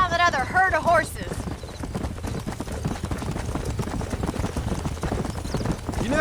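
Horse hooves clip-clop steadily in Red Dead Redemption, a close, rhythmic trotting beat that runs throughout, briefly joined at the start by a high whinny and later by faint voices.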